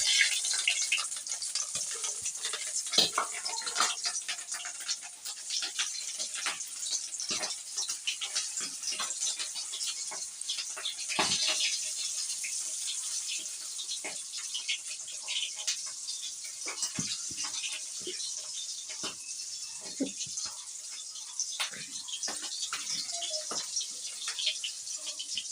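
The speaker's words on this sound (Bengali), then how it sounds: "ডিমের বড়াটা ভেজে নিচ্ছি।" Egg fritters fry in hot oil with a steady, close, broadband sizzle and scattered crackling pops running throughout, with no talking.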